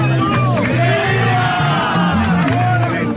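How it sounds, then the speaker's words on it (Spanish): Prisoners celebrating a birthday clap and sing together to a vallenato rhythm, a dense, loud crowd of voices with steady rhythmic applause close by. "Al ritmo de vallenato, los presos aplauden"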